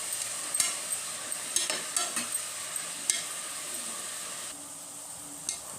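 Green peas masala fries in a pan with a soft continuous sizzle, broken by repeated scraping strokes of a spoon as it is stirred, fairly quiet and without talk.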